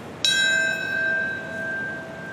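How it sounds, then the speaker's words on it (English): A single bell strikes at the Ground Zero memorial, a sharp clang that hums on and fades slowly, loud and alone over faint background noise. "Six times a bell rang out across Ground Zero"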